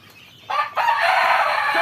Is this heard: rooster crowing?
yes